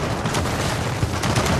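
Turret gunfire in Gears of War 4, a dense, loud rattle of rapid shots and booms blending into a continuous barrage with a few heavier thumps.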